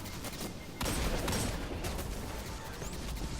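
Austringer hand cannon in Destiny 2 firing several rapid shots from an 11-round magazine, sharp cracks over a busy game soundscape with a burst of noise near the start.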